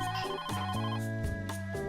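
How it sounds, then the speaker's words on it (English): A telephone rings in a visual novel scene, a repeating electronic ringtone pattern with steady tonal bursts, close and clear with no talk over it. "the delivery phone rang, interrupting their rambling conversation"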